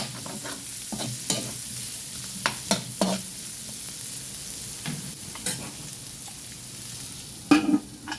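Ingredients sauté in a hot pan for sotanghon guisado, a steady sizzle under repeated scraping stir strokes of a utensil against the pan, close and fairly quiet, with a few sharper clanks.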